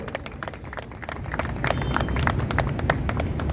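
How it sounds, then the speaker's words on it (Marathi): An audience claps at a book launch ceremony, producing a dense patter of many hands that builds slightly in loudness and continues steadily throughout. "टाळ्या जोरात वाजवा"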